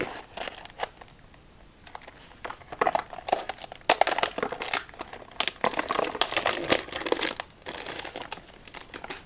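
Crinkly plastic candy packaging is handled and torn open up close, with irregular crackling bursts that build and fade over several seconds, and no talk.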